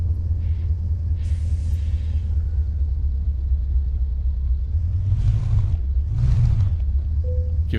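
A DAF truck's engine in Euro Truck Simulator 2 rumbles continuously at a low pitch. Two short swells of revving rise midway, and faint whooshing noises pass in the background. No one speaks.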